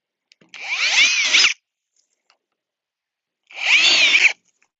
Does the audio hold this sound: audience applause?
no